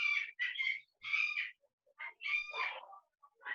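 Pet parakeets at home chatter and squawk in bursts of shrill, raspy calls, close and fairly loud, with short gaps between them and no speech.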